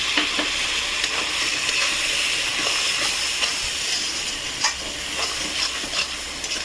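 Mutton curry sizzles steadily in a pan with chilli powder, salt, coriander, cumin and Kashmiri chilli plus a splash of water, with soft scraping stir strokes and ticks over the continuous hiss.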